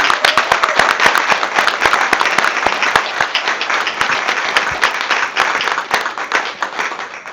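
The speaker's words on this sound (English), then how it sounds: "if we could have a round of applause for all of our Bloomington 101 participants" Audience applause at a Bloomington city hall event honoring program participants, a dense, steady burst of many hands clapping close by for several seconds, slowly easing toward the end.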